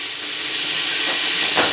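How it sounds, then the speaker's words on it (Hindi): Whole spices such as cloves and a cinnamon stick fry in hot oil in a pan for Sindhi pulao, making a steady, close sizzle with a soft hiss that swells slightly toward the end. "अब ये फ्राई हो रहा है, इसको हम इन चीज़ों के साथ फ्राई करेंगे"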